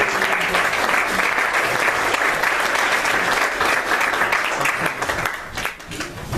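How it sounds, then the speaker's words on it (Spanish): A church congregation applauds during a Spanish-language anniversary worship service, dense sustained clapping filling the room for several seconds before easing slightly at the end. "Dale un aplauso a Cristo de la gloria."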